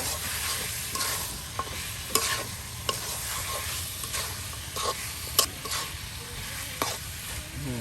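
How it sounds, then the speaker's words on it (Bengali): Duck meat fries with spices in a pan, a dense sizzle broken by repeated scraping stirs and knocks of the spatula at an uneven rhythm, close and loud with no talking. "মাংসটাও আরো মশলার সাথে ভাজা ভাজা করে নেওয়া হবে"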